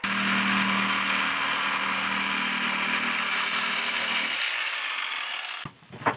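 A power tool notches small wooden end pieces of a board for a western-style false front, a loud close continuous whine and buzz that stops abruptly, followed by a brief clunk.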